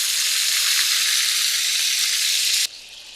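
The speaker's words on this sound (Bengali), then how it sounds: "তেলটা বেশ গরম আছে, বাটারটা গলতে থাকুক আর এই ফাঁকে আমি চিকেনগুলো দিয়ে দিই" Chicken pieces dropped into hot oil and melting butter in a frying pan set off a loud, dense, steady sizzle that drops abruptly to a softer hiss near the end.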